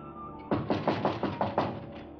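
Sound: knocking on a door

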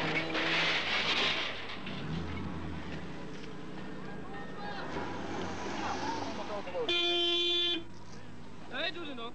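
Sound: rallycross car horn honking

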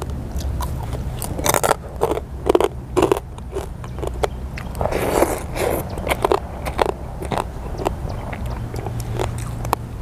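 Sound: biting crunchy crispy pork rinds

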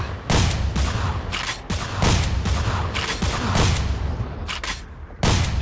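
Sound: shotgun blast in the video game Manhunt 2

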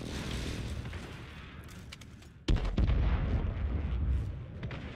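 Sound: airstrike explosions in video game Call of Duty Warzone

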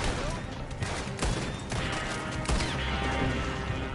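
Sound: gunfire from the player's guns in Red Dead Redemption 2 video game

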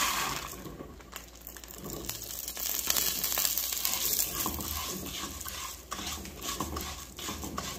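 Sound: pasta being toasted and stirred in a pan for soup

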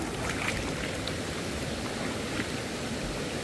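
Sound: strong river current flowing, Cavinti river

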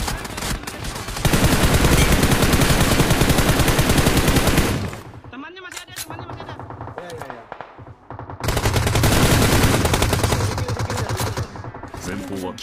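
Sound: gunfire in a battle royale video game

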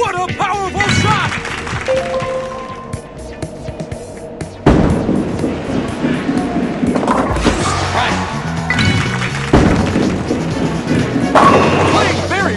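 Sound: bowling ball striking pins

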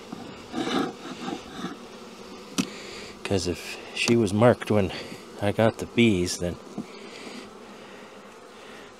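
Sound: honey bees in a hive

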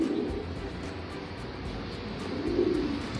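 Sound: Taiwan pigeons cooing in a loft

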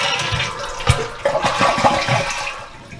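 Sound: toilet flushing to empty the tank

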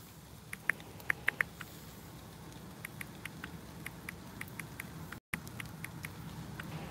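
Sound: rain pattering outdoors

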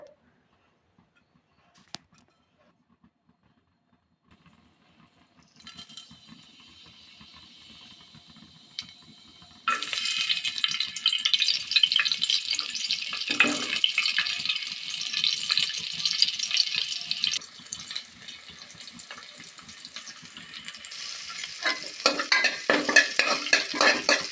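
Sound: frying onion, garlic and curry leaves

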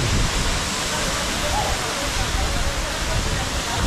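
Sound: Dhareshwar Marleshwar waterfall

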